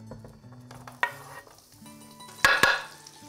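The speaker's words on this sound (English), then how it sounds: "We let the onions sizzle for about 30 seconds." Red onions sizzle and crackle in hot olive oil while a utensil stirs and scrapes the pan, with a couple of louder clattering bursts.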